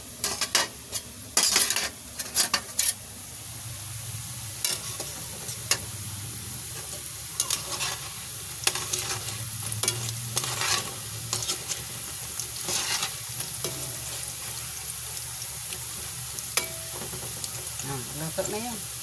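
Fish frying in a pan crackles and sizzles steadily while a spatula scrapes and utensils clatter in bursts; someone briefly speaks amid the cooking.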